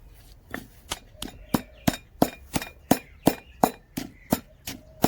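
Coconut sambol ingredients, including dried kochchi chillies, pounded on a stone: a steady run of about fifteen sharp, hard knocks roughly a third of a second apart, each with a stony clink, close and fairly loud with no talk.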